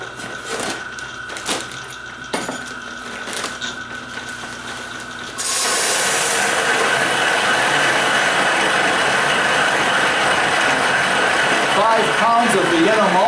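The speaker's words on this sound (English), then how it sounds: "with such a small grain bill, milling isn't going to take long at all" A small-batch grain mill grinding Vienna malt for a Vienna lager brew starts up partway through, a loud, steady grinding whir that continues without a break after a few quieter handling knocks.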